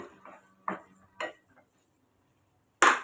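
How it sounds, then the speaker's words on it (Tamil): A spoon stirs semiya tomato kichadi in a pot, giving a few scattered scrapes and knocks with quiet gaps between, then a louder clatter at the end. "இடையில நம்ம கிண்டி கொடுத்துக்கணுங்க இல்லைன்னா அடி பிடிச்சிடும்"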